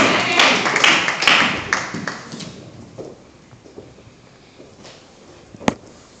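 Church congregation applauding, a burst of clapping that swells at first and then thins out to scattered claps and a few last sharp taps.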